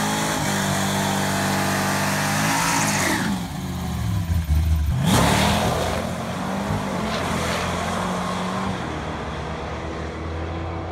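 A Ford 5.0 Fox-body V8 revs hard, rising and falling through several throttle blips with a loud, steady drone between, recorded close with no talk.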